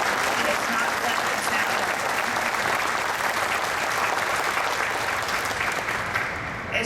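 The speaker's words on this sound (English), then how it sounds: "I would like for you all to please extend to Bruce a round of applause" Sustained audience applause at a factory completion ceremony for the Mando America plant in Georgia, honoring a guest named Bruce. The clapping is dense, even and steady throughout and fades slightly at the very end.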